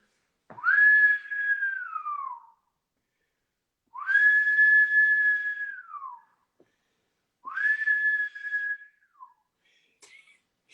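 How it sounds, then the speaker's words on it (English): Three separate long whistle blasts from several whistles blown in a live studio show, each a sustained tone that bends down at the end, loud and close with short silences between. "That's a whistle."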